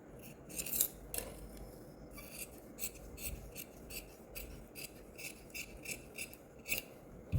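Scissors snipping through blouse fabric on a tailoring table, a run of short crisp cuts repeating steadily at close range, faint and alone.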